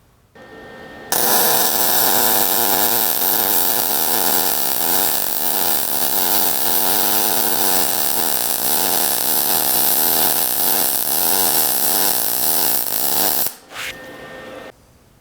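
A Lincoln MIG welder lays a small weld: a loud, steady crackling buzz that starts abruptly, runs for about twelve seconds and then cuts off.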